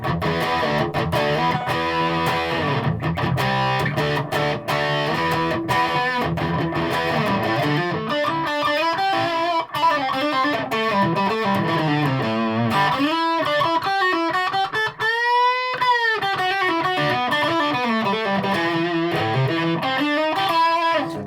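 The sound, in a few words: Fazley Outlaw Maverick electric guitar through amp dirty channel, no reverb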